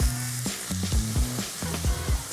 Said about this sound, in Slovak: Necháš chvíľu restovať, kým vlastne táto zmes získa peknú zlatistú farbu.